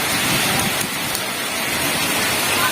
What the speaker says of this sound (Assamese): আমাক ৰাস্তাতে একদম খুব ডাঙৰ বৰষুণে পালে, শিল বৰষুণ